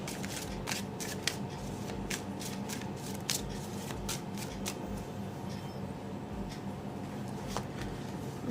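Tarot cards being shuffled by hand, a run of quick crisp riffling flicks and soft card slaps close by, fairly quiet with no talking.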